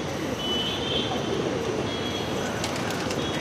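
Madrasi pigeons coo softly amid a dense, noisy background of birds and rustling at a pigeon seller's in Andheri West, Mumbai, with no clear talk.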